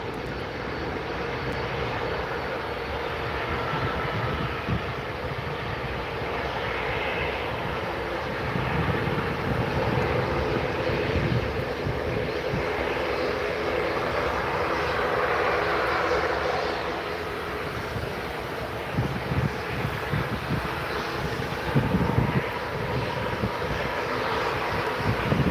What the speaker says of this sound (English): Next to depart, we got Loganair,